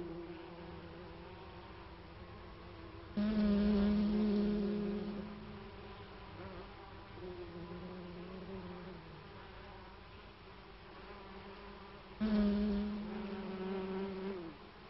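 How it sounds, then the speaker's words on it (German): Honeybee foragers buzz in flight, a steady close drone that swells sharply louder twice as bees pass near, then eases back, with no voices. "Als Flugbienen suchen sie nach neuen Futterquellen."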